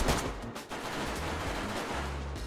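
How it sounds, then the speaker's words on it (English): AK rifle fire in the survival game DayZ, a dense run of close, loud shots that holds steady through the whole moment with no voices. "This AK is not that good."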